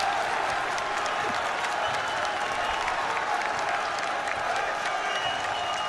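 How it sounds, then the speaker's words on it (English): A crowd at an NCAA men's basketball game between Calvin and Hope applauds and cheers steadily, a dense wash of clapping heard from within the gym, moderately loud and continuous for several seconds. "The crowd is waking up now."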